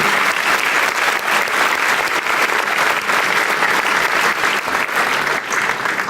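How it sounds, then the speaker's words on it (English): An audience at a speech event claps and cheers in a dense, sustained burst of applause that stays loud and even throughout, with no break and no distinct voices. "An applause to them."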